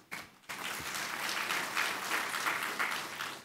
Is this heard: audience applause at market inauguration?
yes